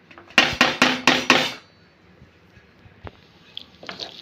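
A spoon clanks repeatedly against a pan while sautéed vegetables are mixed into white sauce, five sharp metallic knocks in quick rhythm, followed by quieter scattered clinks and a soft stirring sound.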